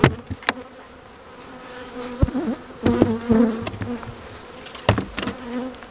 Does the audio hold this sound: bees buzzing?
yes